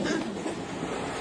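A train running in a film scene, a steady rumbling rail noise with a faint rhythmic clatter heard at moderate loudness, without any voices.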